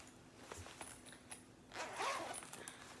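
A zipper runs along the pocket of a black nylon crossbody purse with gunmetal hardware, preceded by a few faint handling clicks and ending in one short, close rasping pull.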